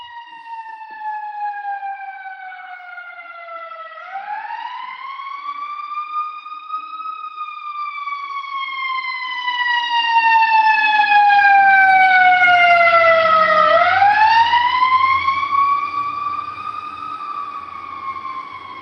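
An ambulance siren passing nearby, a loud wailing tone that slowly rises and falls in long sweeps, growing louder in the middle with some traffic rumble underneath.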